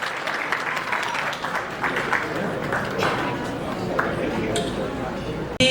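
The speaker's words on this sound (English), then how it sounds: "Give them a big round of applause, everybody." Audience applause fills a Lions Club charter night banquet hall, sustained dense clapping with scattered cheers and voices mixed in throughout, cutting off abruptly at the end.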